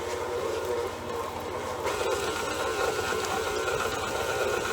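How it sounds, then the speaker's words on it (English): An electric mixer beats gluten-free bread dough with a steady, loud whirring drone that grows a little brighter partway through, with no talking. "Maybe I need to increase the speed of my mixer a tad bit."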